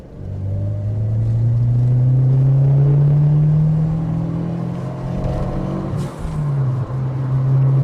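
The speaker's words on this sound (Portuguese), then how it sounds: "Então, por volta de 2000 RPM, 30 milhas por hora, pé no fundo." A 1987 Fiat Uno Turbo engine pulls hard at full throttle from around 2000 RPM, a loud rising drone climbing steadily in pitch, then dipping briefly at a gear change before resuming.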